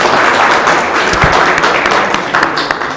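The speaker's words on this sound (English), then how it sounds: "Let's clap for people in Center for Learning." Applause from an audience at a university launch event: a dense, steady patter of many hands clapping, fairly loud and sustained throughout, with a few sharper taps standing out.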